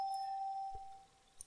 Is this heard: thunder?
no